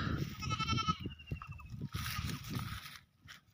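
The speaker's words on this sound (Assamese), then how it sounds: "এইটো মোৰ খুবেই প্ৰিয় ছাগলী" A goat, a mother with her two-month-old kid on a farm pasture, gives several quavering bleats in quick succession, close by, over low rustling and shuffling noise.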